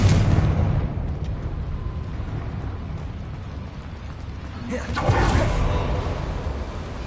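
A Confringo fire spell explodes in the Hogwarts Legacy video game: one loud, broad blast lands about two-thirds of the way through, over a steady rumbling game soundscape with faint voices.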